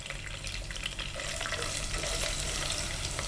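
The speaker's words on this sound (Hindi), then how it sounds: "इसके साथ थोड़ा हल्का सा भूनेंगे बस" Garlic paste fries in a pan over a low flame, giving a soft, steady sizzle that holds quietly and evenly from start to finish.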